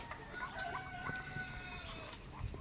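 Several chickens cluck and murmur nearby, with overlapping calls and a faint crow-like note among the chatter, fairly quiet overall.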